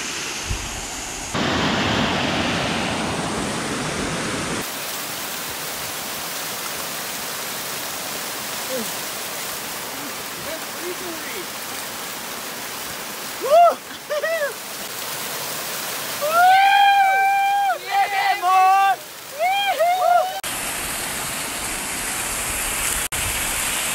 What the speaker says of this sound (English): We just got to the top here to the waterfall.